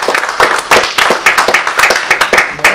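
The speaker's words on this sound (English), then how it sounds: "a round of applause" A small group gives a round of applause at a remote tech meetup, with distinct, separate handclaps in a quick, uneven rhythm heard close up over a couple of seconds.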